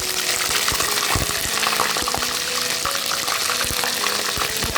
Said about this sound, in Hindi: ये थोड़ा सा ज़ीरा डाल दूँगी, साथ ही मैं ये कड़ी पत्ते भी डाल दूँगी।